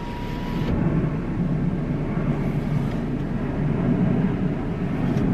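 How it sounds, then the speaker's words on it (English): An airplane drones overhead during an evening outdoor walk, a low, steady rumble that swells slightly and holds throughout with no talking. "God, there's a plane up there."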